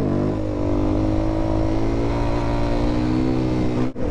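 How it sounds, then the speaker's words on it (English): Suzuki DRZ 400S motorcycle engine revving steadily with throttle blips, loud and close, the harmonic drone holding for about four seconds before a brief sharp dip near the end, with no talk. "I have to stop blimping the throttle, which is this."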